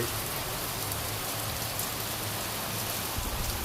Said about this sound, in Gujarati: આજે વરસાદનું જોરદાર આગમન